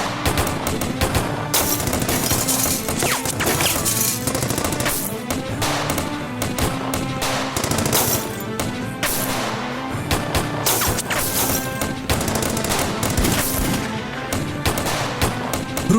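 Loud gunfire in an action web series gunfight, with dense overlapping shots and crashing impacts that continue without a break, layered over a busy soundtrack.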